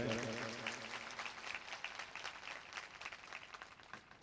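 An audience at a Bhagavat Katha religious gathering claps in greeting, starting under a voice and settling into a steady, somewhat distant round of applause that gradually thins.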